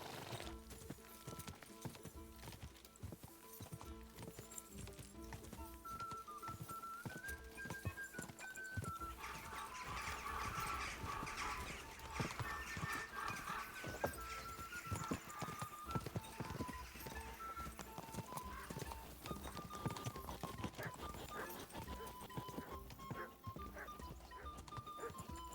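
A horse gallops in the video game Kingdom Come: Deliverance II, a steady fast clip-clop of hooves running continuously at moderate loudness, with faint background game ambience.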